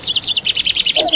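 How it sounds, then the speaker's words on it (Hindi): A bird chirps in a quick run of about a dozen bright, evenly spaced tweets, loud and close, with a brief lower tone entering at the end. "चिड़िया बोली चुन चुन"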